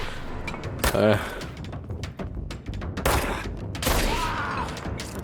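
Gunfire in the video game Control, a few sharp, loud bursts spread over a few seconds amid game noise and brief talk.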